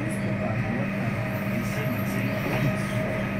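A train running fast between Porsgrunn and Skien in Norway gives a steady rumbling drone with a constant hum, heard from inside the carriage.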